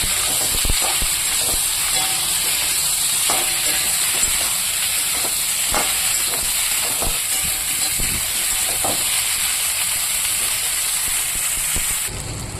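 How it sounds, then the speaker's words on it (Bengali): Vegetables frying in oil, a loud, dense and unbroken hiss throughout, with faint scattered taps of stirring underneath and no talking. "এবার আমি তেল দিয়ে ভালো করে সবজিটাকে নাড়াচাড়া করে নেব"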